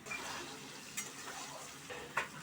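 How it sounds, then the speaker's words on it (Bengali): Salted potato strips sizzle in a pan, quiet and close, with a soft continuous hiss and a few light scraping stirs, one sharper clink near the end, and no talking. "আলুটা ফার্স্ট একটু ভেজে নেব"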